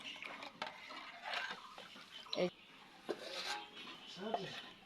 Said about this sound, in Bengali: এইভাবে সুন্দরভাবে ফেটে নিতে হবে, একটু হাতে সময় নিয়ে।